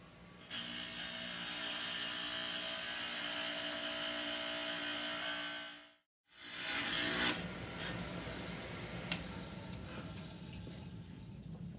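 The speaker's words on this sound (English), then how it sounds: "You can see the water dripping out here, so that's keeping the saw cooled and lubricated." Water-cooled rock saw slicing a rock sample, with a steady mechanical whine that cuts out abruptly partway through, followed by quieter dripping water and a few sharp clicks.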